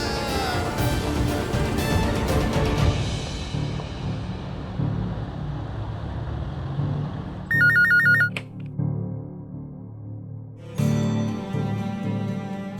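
A phone rings in a domestic TV-drama scene, a short burst of electronic ringtone trills cutting in over a background music score, then breaking off before the score swells again; no one speaks.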